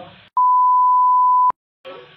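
A single steady electronic beep sounds for just over a second on a phone line placed on hold, set between short bursts of speech before and after.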